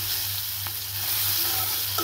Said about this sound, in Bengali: এখন আলুর সাথে ডিমটাকে ভেজে নিব